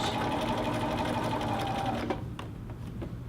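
A sewing machine stitching the center back seam of a little girl's dress, a fast steady whirr of the needle for about two seconds, then it stops, leaving a quieter tail.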